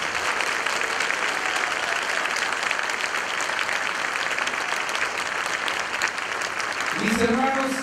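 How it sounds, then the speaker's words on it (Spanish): A church congregation at a healing service in Merced, California bursts into sustained, dense applause that fills the room without pause, and a voice briefly rises over it near the end. "con sus manos, denle un aplauso al Rey de Reyes"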